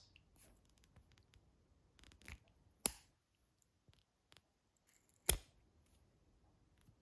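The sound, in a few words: cutting 3/16 inch plastic tubing at an angle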